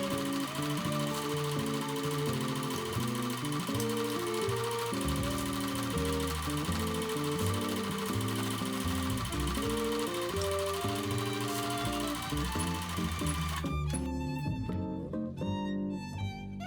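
A sewing machine runs steadily around the curved edges of a fabric sleep mask, its rapid mechanical stitching loud and continuous, then ending in a burst of sharp clicks near the finish.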